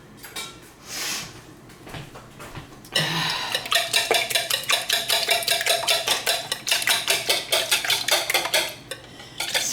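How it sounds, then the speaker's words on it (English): A whisk beats seven eggs in a bowl for a quiche, rapid rhythmic clinking and scraping against the bowl that starts after a few seconds of quieter handling and keeps going loud and close. "now, I'm just gonna get my hands off and get my whisk."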